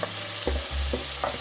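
Peas, carrots and capsicum go into a frying pan of spiced vegetables, where a low sizzle sits beneath a few quick stirring and scraping movements in a short burst.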